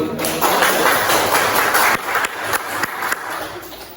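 Students in a school classroom clap for a group that has just presented, a steady patter of hands with a few sharper claps standing out, fairly close and continuing for several seconds without speech.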